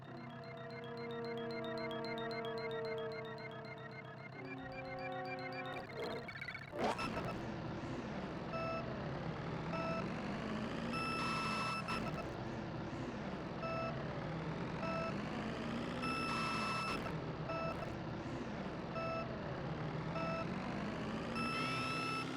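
Electronic race-start countdown beeps from the Super Mario Kart SNES game: a few sustained tones in the opening seconds, then a burst of engine and music sounds as the race begins, with layered game audio continuing to the end.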